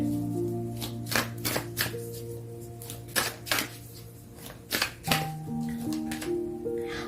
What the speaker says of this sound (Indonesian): Oke, aku akan coba tarik satu kartu lagi.